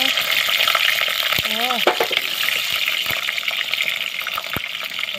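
Potatoes frying in a pan give a constant crackling sizzle, with a few clinks and knocks on top and a brief voice partway through.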